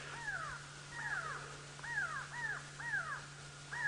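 Grey go-away birds give repeated alarm calls in the bush during an evening safari drive, a series of about six harsh, nasal descending cries at a steady rhythm, fairly near and clear over a low engine hum.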